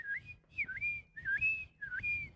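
A person whistles an imitation of a seagull's cry: four rising and falling whistled calls in a steady rhythm, close and clear, with faint background murmur beneath.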